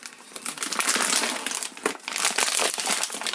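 Crinkling, crackling plastic as vacuum-sealed packaging around 3D printer filament is unwrapped, a dense continuous crumple with sharper bursts, close and fairly loud, no talking.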